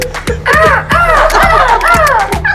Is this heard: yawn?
no